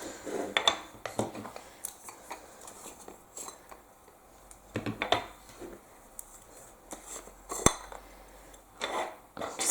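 Small PanPastel containers are unscrewed and handled up close, giving scattered light scrapes, twists and clicks of plastic lids in short, irregular bursts.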